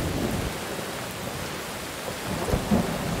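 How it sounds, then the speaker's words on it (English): Steady rain with rumbling thunder in the horror video game Unholy, set among trees and grass: a continuous wash of rainfall with low thunder rolls swelling near the end, and no voices. "The audio for the rain is pretty nice."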